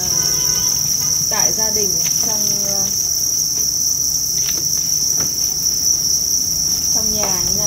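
Crickets raised indoors at home, living under a bed, keep up a loud, steady high-pitched trill throughout, while a voice speaks intermittently over the chirping.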